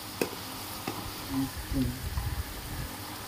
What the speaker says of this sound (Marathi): टाकल्यानंतर आपण तो एकजीव तेलात मस्तपैकी तळला पाहिजे